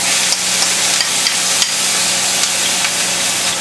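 Medium yellow onion sizzling loudly in hot vegetable or canola oil in a skillet, a steady dense crackling hiss with faint scattered pops, no voices.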